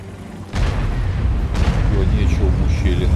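High-explosive shell impacts in the World of Tanks tank battle game: a heavy boom hits suddenly, then a second blast follows about a second later, both under continuous battle ambience and a voice talking.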